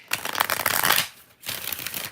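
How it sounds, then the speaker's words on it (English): Tarot cards riffled and shuffled in two close bursts, a dense papery flutter for about a second, a brief pause, then a second shorter shuffle. "One more shuffle."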